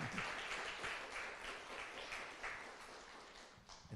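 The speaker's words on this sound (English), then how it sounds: "everybody, please give me James a round of applause" A symposium audience applauds in a steady, faint wash of clapping heard from a distance, which thins out toward the end.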